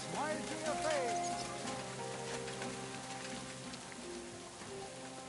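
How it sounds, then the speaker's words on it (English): Rain falls steadily in the medieval game Kingdom Come Deliverance 2, a soft continuous patter behind voices talking and scattered background sounds. "Don't mind the rain."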